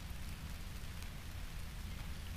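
Steady rain falls outdoors in a dense, even hiss of drops on surfaces, faint and continuous with no talking.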